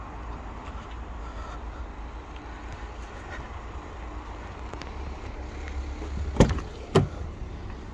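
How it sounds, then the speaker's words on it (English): Electric windows of a Ford Connect van whirring inside the cab, a steady low motor hum with two sharp clunks near the end as the glass stops. "Got the electric windows"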